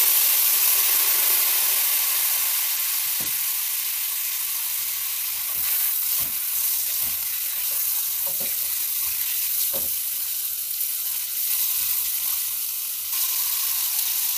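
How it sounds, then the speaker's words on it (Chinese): Sea cucumber being stir-fried in a wok, a steady loud sizzle and hiss with occasional scraping stir strokes, no talking. "跟住加埋啲海参，兜炒一下。"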